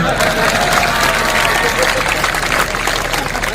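Crowd applause at a political rally in Chandrapur, a dense steady wash of clapping that carries at even loudness through the whole stretch, with voices mixed into the noise.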